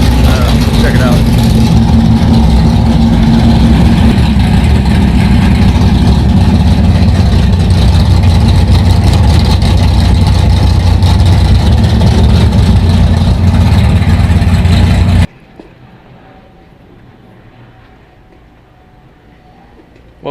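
A Nova's engine fitted with a 468 motor rumbles loud and close at a deep, lumpy idle for about fifteen seconds, then cuts off abruptly, leaving quiet background.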